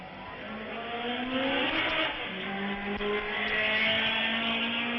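A 1971 Monza Formula 1 car pulls away, its engine note rising in pitch through the gears, loud and fairly close against steady track ambience, with no voices.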